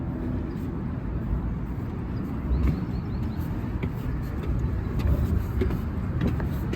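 Steady road traffic rumbles past a pedestrian crossing in California, with cars and larger vehicles giving a continuous low roar and occasional swells as they pass, and no talking.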